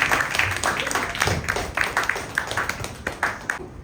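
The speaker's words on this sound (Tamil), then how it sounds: "ஒரு வருஷம் எல்லாரும் கைத்தட்டுவோமா?" An audience at a Pattimanram debate gathering claps in a scattered burst of uneven hand claps, moderately close, with a voice talking faintly underneath.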